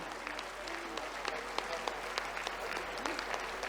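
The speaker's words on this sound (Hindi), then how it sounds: "उठा के तालियां बजाएं" Crowd clapping with raised hands at an outdoor gathering, a steady dense wash of applause with a few sharper individual claps standing out throughout.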